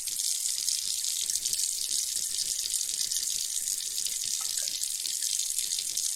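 Water running steadily from a tap into a graduated cylinder during a density lab, a continuous close splashing hiss with no talk over it.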